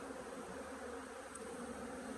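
Honey bees buzz in a steady, dense drone as hive frames are shaken during a colony split, a quiet even hum without pauses.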